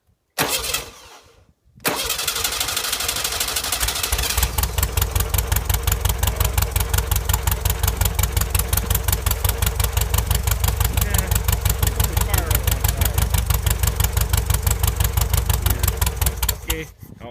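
Gas engine on a buggy cranking and then starting, settling into a steady loud rapid idle that runs nearly continuously, preceded by a brief sputter and key-on noise.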